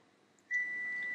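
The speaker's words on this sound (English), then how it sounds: "That's my dishwasher beeping." A dishwasher sounds a single sustained electronic beep, a steady high tone that starts abruptly and holds clear and moderately loud over a quiet room background.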